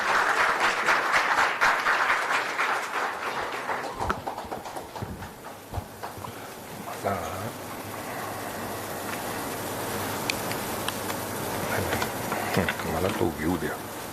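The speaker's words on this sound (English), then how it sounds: "I request the entire audience to put together a big round of applause and welcome" Audience applauding to welcome a guest at a business school event, a broad wash of clapping that is loudest at the start and then thins out, with murmuring voices and a few thumps under it.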